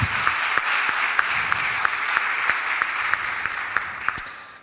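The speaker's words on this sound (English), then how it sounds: "let's give them a shout, let's clap, because they deserve it" Applause from an audience of attendees at a volunteering talk, a steady wash of many hands with a few sharper claps standing out, continuous and moderately loud throughout.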